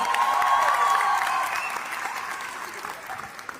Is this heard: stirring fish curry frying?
no